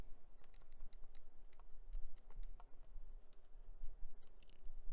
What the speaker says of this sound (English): Let me type that into my calculator.